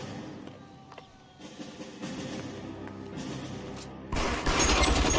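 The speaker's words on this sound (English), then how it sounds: "Shots fired." Gunfire erupts in a 1940s Los Angeles police shootout in L.A. Noire, scattered shots and crashes building into a loud, dense burst of fire near the end, with no talk.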